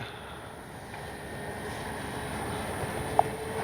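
RC model B-25J warbird airborne just after takeoff, a steady distant engine drone over outdoor wind noise, rising slightly in level, with a brief sharp tone near the end.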